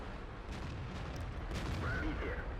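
Tank cannon firing in the video game World of Tanks, an SU-100 or T-54 in battle, heard as a muffled low boom amid continuous rumbling engine and battlefield noise.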